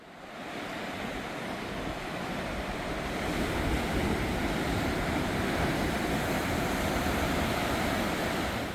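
Continuous surf rolls and breaks along Heart Beach in Uljin, Korea, a broad steady wash of ocean waves swelling slightly louder halfway through, with wind noise and no talk.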